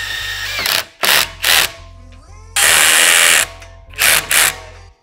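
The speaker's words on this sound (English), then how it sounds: "we're ready to tighten these nuts here." A power tool tightens the mounting nuts on a roof rack for a Can-Am X3 Maverick, sounding in loud, close bursts: several short whirring pulses, one longer sustained run, then two more quick bursts.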